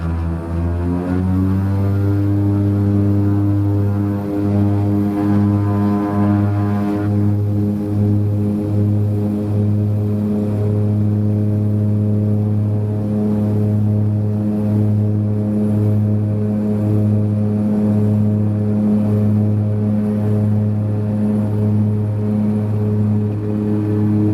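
Small propeller plane taking off in Nepal, engine droning loud and close with a rising pitch and steady pulsing throb that holds throughout, no voices.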